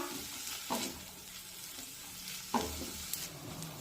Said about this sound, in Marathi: साधारण दोन मिनिटे या भाज्या मी तेलामध्ये परतून घेते भाज्या परतत असताना गॅसची फ्लेम कमीच ठेवा